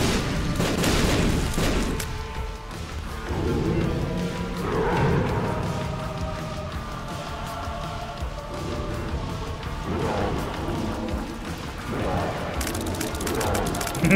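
Bombs go off in The Binding of Isaac, heavy booming blasts that roll in several bursts over the game's background sounds.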